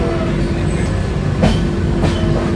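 Loud, continuous rumble of a slow-moving passenger train heard from inside a carriage in Kerala, with a couple of brief rattling surges.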